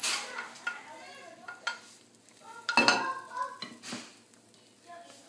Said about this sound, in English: Into the butter.